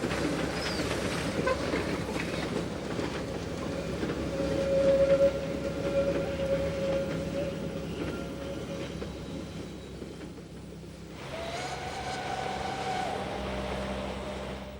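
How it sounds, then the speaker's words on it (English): A Rhaetian Railway special train in the Swiss Alps on the Davos line is hauled by two locomotives up a gradient in thickly falling snow. It gives a steady, moderately distant rumble and rolling noise, with a brief higher tone partway through. "The two locomotives made light of the gradients, and even the thickly falling snow was not to dampen the enjoyment"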